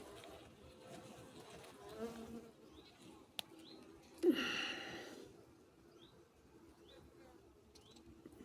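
Honeybees hum and buzz faintly around an open Segeberger hive during inspection, with a louder buzzing pass midway, against a soft background of outdoor noise.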